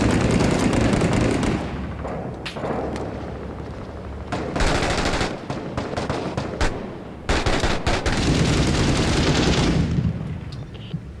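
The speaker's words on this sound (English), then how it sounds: "By the sound of that gunfire, I'm going to take that as a yes." Heavy, continuous gunfire from the tactical shooter video game Six Days in Fallujah, with rapid automatic bursts and dense overlapping shots rolling almost nonstop, loud and close, with brief gaps between volleys.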